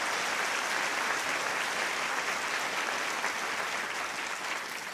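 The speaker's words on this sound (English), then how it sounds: "Let's give them another round of applause." Auditorium crowd at a teachers' awards ceremony gives a sustained round of applause, dense and even clapping that holds steady and only slightly eases toward the end, with no voices over it.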